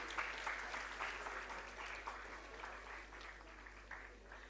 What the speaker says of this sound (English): the clap should continue